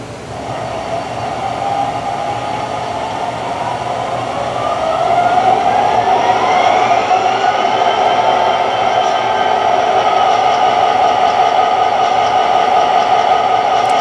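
An MTH Premier GP-30 model locomotive's sound system powers up, a rising whine and engine hum swelling into a steady loud drone with tonal motor sounds.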